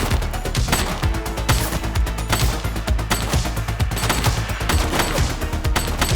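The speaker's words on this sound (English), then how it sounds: "Shots fired!" Rapid, dense gunfire in the police video game The Precinct, with bursts of automatic shots and crashes hammering loudly and continuously throughout.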